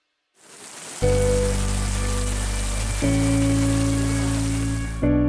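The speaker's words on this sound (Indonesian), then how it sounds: "turunnya hujan yang mengguyur wilayah desa setempat" Rain pours over a village in Pacitan, a steady broadband hiss that runs throughout and sits under loud, sustained tonal drones that change pitch twice.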